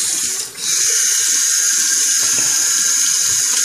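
Tap water runs steadily into a sink while hands are washed, a bright continuous hiss with a brief dip near the start and scattered low splashes and clunks beneath.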